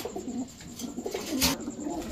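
Pakistani teddy, racer and high-flyer pigeons cooing close by, a few soft low throaty coos over a short moment with faint background noise and no talk.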